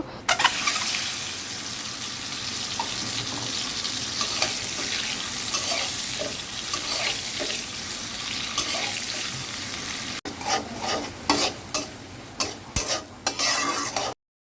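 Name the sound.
spices and fish head sautéing in a pan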